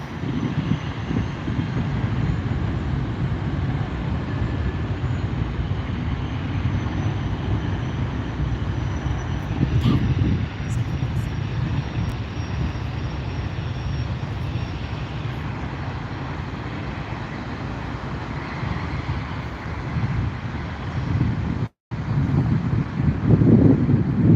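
An Airbus A320 airliner takes off at SNA, its loud, sustained engine roar and deep rumble filling the whole stretch without any talk.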